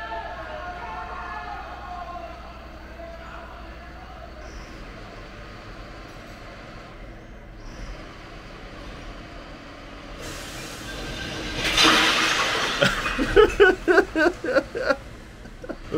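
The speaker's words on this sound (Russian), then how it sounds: "Но это мусоровозка. Она ездит уже вокруг здесь по кварталу" A garbage truck driving around a residential block on the Italian coast, a low steady engine rumble that builds near the end into loud screeching and rhythmic clanking bursts close by.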